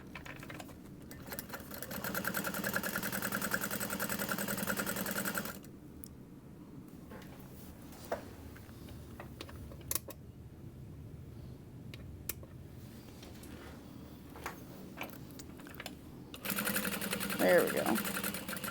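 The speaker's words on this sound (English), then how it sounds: "And then we're going to sew around all 4 sides." A sewing machine stitches around all four sides of a cork piece in steady running bursts, with quieter pauses between passes and a voice talking over parts of it.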